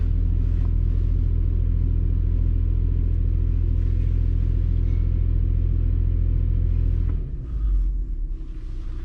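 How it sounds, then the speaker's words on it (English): A 5th-generation Toyota 4Runner engine holds a heavy, steady low rumble while being brake torqued, then the revs drop off abruptly and the engine settles back to a lower, rougher idle. "I'm gonna brake torque it a little bit."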